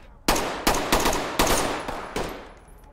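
Rapid bursts of gunfire in the tactical shooter game Ready or Not: about six loud, sharp shots spaced unevenly over three seconds, each with a short ringing tail, no talking.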